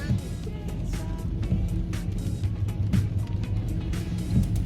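Inside a moving car: a steady low engine and road rumble with broadband tyre hiss and occasional soft bumps, continuous and close, with no clear talk.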